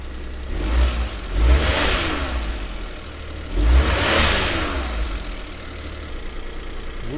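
A cold Suzuki Every DA52V van engine runs rich while warming up, a close, steady mid-pitched idle with two brief swells in revs, no voices over it.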